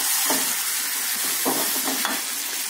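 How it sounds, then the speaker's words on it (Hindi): Curry leaves sizzle as they are stirred into tomato pickle over a medium gas flame, giving a steady bright hiss of frying with soft scraping stir strokes, close and without talk. "और अब इसमें करी पत्ता डालेंगे और इसे अच्छे से चला लेंगे।"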